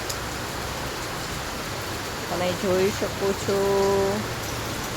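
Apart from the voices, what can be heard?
heavy unseasonal rain in Mumbai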